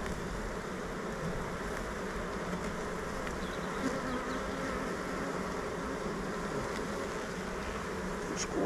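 Honeybees hum steadily from an opened hive during a spring inspection, a dense, even buzz close by with individual bees droning past.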